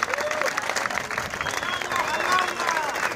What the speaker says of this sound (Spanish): A todos y a todas un fuerte aplauso